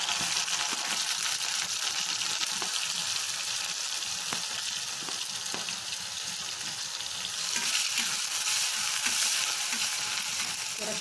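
Chopped soybean fries in a couple of tablespoons of oil in a pan for ration rice biryani, a steady close hiss and sizzle running throughout with faint occasional scrapes of stirring.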